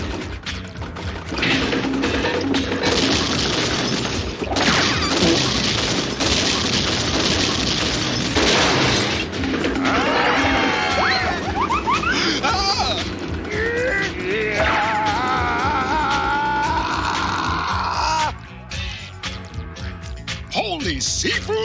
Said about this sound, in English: Whoever they are, they're tearing up the house.